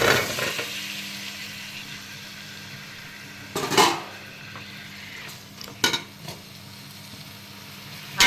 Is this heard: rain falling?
no